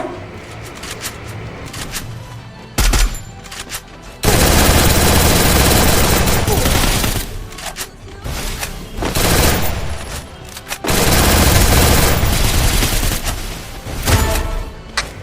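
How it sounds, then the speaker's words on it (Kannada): Bizon submachine gun fire in the Free Fire video game: rapid automatic bursts ring out loud and close, several long sustained volleys with brief pauses between them. "ಅವ್ನು ಯಾವುದೋ ಬಿಜೋನ್ ಗನ್ ಯೂಸ್ ಮಾಡ್ತಿದ್ದ"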